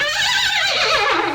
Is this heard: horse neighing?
yes